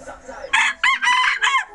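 A native Thai game rooster crows loudly nearby in several choppy bursts, with faint clucking and a hint of voice before it.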